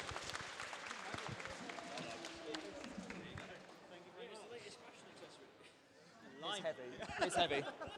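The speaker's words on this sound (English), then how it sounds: "Another round of applause for Gizmo" Audience applause for the winning robot at a robot combat grand final, scattered and fairly faint clapping mixed with crowd chatter and voices, swelling slightly toward the end.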